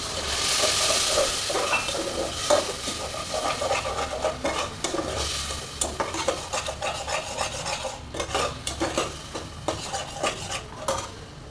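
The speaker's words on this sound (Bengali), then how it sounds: "আদা রসুনের গন্ধ চলে যাওয়া পর্যন্ত এটা ভেজে নিতে হবে ভালো করে" Ginger, garlic and spices sizzle in a pot while a utensil scrapes and stirs repeatedly, producing rhythmic rasping clinks close by.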